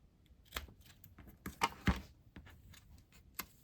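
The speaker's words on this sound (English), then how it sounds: "I have scissors. I'm just gonna cut it shorter." Scissors snip fabric scraps shorter in a few quick, close cuts with soft rustling handling noise between them, no voices.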